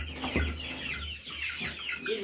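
Chickens cluck close by in short, irregular bursts, with a low background hum underneath.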